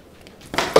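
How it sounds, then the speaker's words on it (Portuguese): A pen drops and clatters onto a hard surface in a classroom-style setting, a short close knock with a brief scuffing rattle after it. "A caneta caiu."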